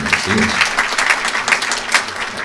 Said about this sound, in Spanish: Los aplausos para él.